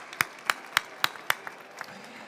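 A few people give a slow, sparse round of clapping for a commissioner at an agriculture conference. There are about eight distinct claps that fade out, quiet under room ambience.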